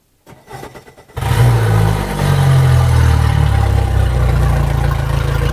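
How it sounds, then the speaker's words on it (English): A Mercury four-stroke 65 jet outboard engine cranks over in a few short bursts, then catches and settles into a loud, steady running drone close by, with no talking. "So I should be able to fire this engine up and I don't have to worry about it overheating."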